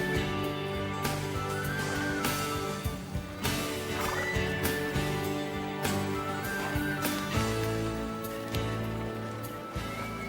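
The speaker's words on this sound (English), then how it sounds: "Nine-year-old registered second cross quarter horse mare." A quarter horse mare whinnies and neighs over a sustained musical backdrop, the calls rising and falling in several repeated phrases across the passage.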